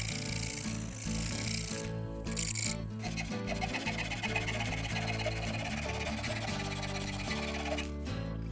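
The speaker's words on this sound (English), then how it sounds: "I then used the rasp to remove all material between those lines." A rasp scrapes the curved back of a wooden bass guitar neck in rapid, continuous rough strokes, close and loud, with brief pauses between passes and no talk.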